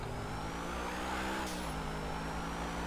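A fully modified car engine fitted with nitro in GTA 5 drones steadily at a sustained rev, a continuous tonal hum with a slight pitch shift midway and no talk over it.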